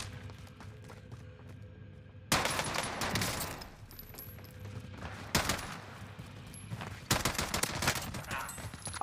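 Bursts of rapid automatic gunfire in Call of Duty Warzone, three loud volleys with quieter distant shots between them, close and harsh.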